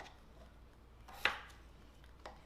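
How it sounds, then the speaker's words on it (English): A knife cuts potatoes into bite-sized pieces on a board, giving one sharp chop and a fainter second tap against quiet background. "right now I'm just cutting up my potatoes"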